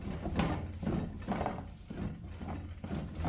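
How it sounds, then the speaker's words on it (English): A ratchet wrench working on a half-inch square drive plug on the engine of an abandoned Cub Cadet 682 garden tractor, with quiet repeated clicking strokes in an irregular rhythm, close and faint. "let's just bust off this 1/2-inch size square drive and see if that's where the oil is"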